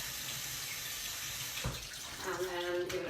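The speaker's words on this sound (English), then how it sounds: "just going to give that a little bit of a rinse under the sink" A sink tap runs continuously as food is rinsed underneath, a close, steady rush of water with a brief splash shift partway through and a faint voice near the end.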